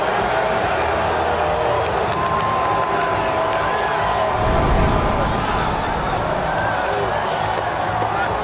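A baseball crowd cheers and applauds steadily as an ejected manager walks off carrying first base, a dense roar of voices with a brief swell midway.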